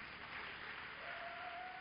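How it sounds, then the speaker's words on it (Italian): Quiet, muffled audience applause at a Christian music festival evening concert, a brief stretch of steady, distant-sounding clapping with no voices over it. "Bellissimo, grazie. Un applauso."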